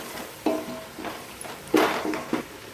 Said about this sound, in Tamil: இந்த மசாலா 50 கிராம் சேர்த்து நல்லா அந்த தக்காளியோட சேர வணக்கி விட்டுக்கலாம்